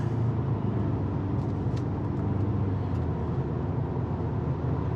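A 2021 Ford Ranger Tremor turbocharged pickup launches at full throttle, its engine roaring loud and steady throughout with a dense, unbroken drone and no talking.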